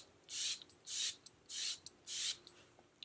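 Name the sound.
Chanel face mist being sprayed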